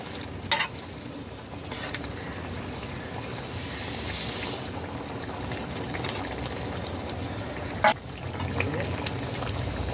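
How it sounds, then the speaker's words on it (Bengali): Two cups of hot water pour into a cauliflower, potato and soya chunk curry in a pan, a continuous watery rush and bubbling with a couple of sharp clinks at the start and near the end. "দু কাপ গরম জল অ্যাড করে দিয়েছি"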